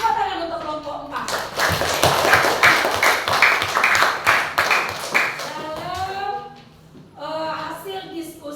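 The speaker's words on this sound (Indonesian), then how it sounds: "Tepuk tangan untuk kelompok 4." Classroom applause for a student discussion group after their presentation, a dense burst of many hands clapping lasting several seconds, with a teacher's voice talking before and after it.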